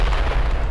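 A loud, booming explosion in the zombie game Dead Island Definitive Edition, a brief dense rumble with heavy low end, close and alone with no voices.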